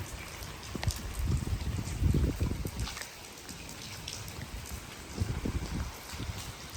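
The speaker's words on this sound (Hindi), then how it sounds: "सुबह सुबह की बारिश वैसे भी और अच्छी लगती है।" Morning rain pours steadily over a rooftop in a Pakistani village: a constant hiss of drops with close pattering and splashing that rises and falls in bursts, and no voices.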